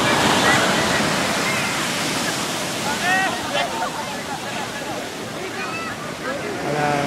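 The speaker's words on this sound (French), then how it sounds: "Oh là, la belle vague là." Ocean waves breaking and washing onto Boucan Canot beach, a steady broad surf roar filling the whole stretch, with people talking over it partway through.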